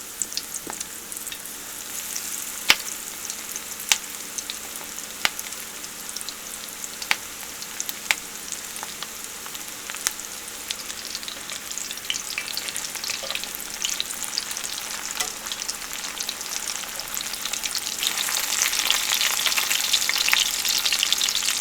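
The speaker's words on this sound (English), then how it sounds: "I'm going to add those battered onions in there. And I'm just going to let it fry for about 3 minutes." Battered onion rings deep-frying in hot oil, a steady bright crackling hiss with scattered pops and snaps, close and continuous, swelling louder and busier toward the end.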